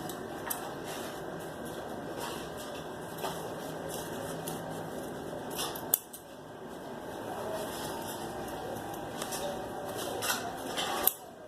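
Scissors snip through fabric while a simple neckline is cut out for a dress. The cutting is close and soft, with a steady rustle and a few sharper clicks.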